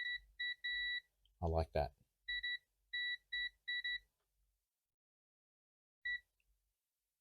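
ANENG multimeter in continuity mode giving a series of short, clean electronic beeps in quick succession, then one last beep after a pause, with a short spoken comment near the start.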